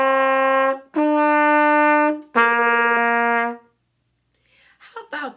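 A trumpet plays the first measure of a beginner's lesson: three clear, sustained notes separated by short breaths, the third note shifting pitch partway through. After a pause comes a brief faint sound that could be a few quiet words.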